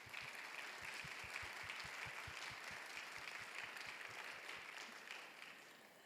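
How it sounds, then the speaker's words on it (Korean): Korean church youth worship congregation claps in welcome, fairly quiet and even, with a low rhythmic thumping running beneath the scattered applause before it fades. "여러분 축복과 환영의 박수 부탁드립니다."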